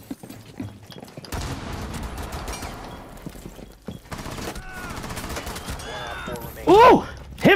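Bursts of hip-fired gunfire in a tactical shooter video game, sharp cracks scattered through the middle of the clip amid clatter and other game sounds, with a person's voice heard near the end.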